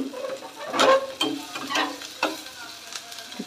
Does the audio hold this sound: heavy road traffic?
no